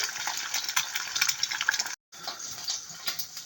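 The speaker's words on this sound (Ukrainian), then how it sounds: "додаємо на сковорідку трішки масла. І жаримо яйце." An egg fries in butter with a steady crackling sizzle in a pan, broken by a brief silent gap midway, close and fairly soft.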